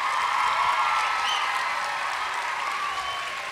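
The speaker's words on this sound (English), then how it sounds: "I want everybody to give Ms. Collins a round of applause for a fantastic performance." An audience applauds at a school Grandparents Day program after a performance, a steady dense wash of many hands clapping that stays even and sustained, with no talk over it.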